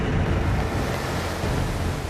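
Loud, steady rushing water of Thunder River, a churning torrent filling the whole stretch without pause, with no voices over it.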